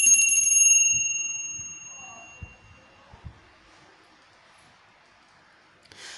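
A bright bell rings once with a sharp strike, its clear tone ringing out and slowly fading over a few seconds, followed by faint taps and quiet.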